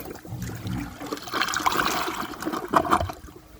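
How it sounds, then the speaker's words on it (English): A 2022 American Standard Homestead VorMax toilet flushes in one short, close rush of water that swells and then drains away in gurgling trickles, with no talking. "I will show you guys a flush"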